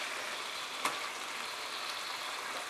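Bone-in chicken leg pieces hit a pan of yogurt-spice masala with a soft click, then a steady low hiss of sizzling continues quietly throughout.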